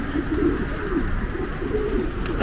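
Racing pigeons in a loft after the season coo in soft repeated low phrases over a steady background hum, several birds close by.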